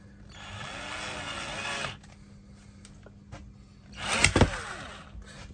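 A cordless drill drives a 2.5 inch screw in two close bursts, a steady whirring run of over a second, a pause with small clicks, then a louder straining spin that tails off.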